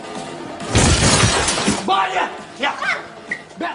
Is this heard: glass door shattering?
yes